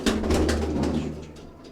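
Soft, low cooing of pigeons close by, a few rolling coos fading over a couple of seconds against a quiet background.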